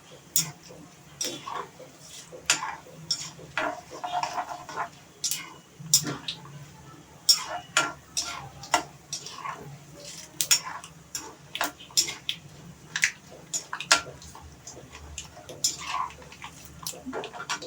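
Mustard seeds spluttering and popping in hot oil while tempering for aval upma, a scattered run of sharp crackles and pops of varying loudness over a low steady background hum, close by.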